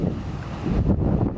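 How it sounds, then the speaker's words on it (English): Ocean waves roll up onto a shore, a dense continuous wash heavily buffeted by wind noise on the microphone. "the waves are coming in and Wah's all the way up there."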